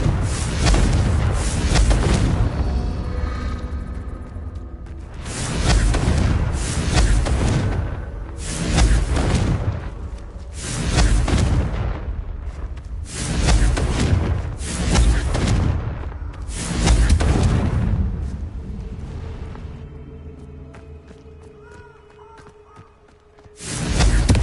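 Repeated Confringo blasting-spell explosions in Hogwarts Legacy, about seven loud booming bursts in a steady rhythm, each swelling and fading, then a quieter stretch before one last blast starts.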